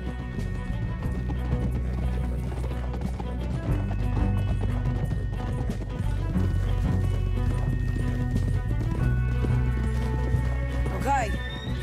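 Video game horses gallop with rapid, dense hoofbeats in a continuous clatter, and a neigh rises near the end. Loud throughout, with a steady game soundtrack underneath.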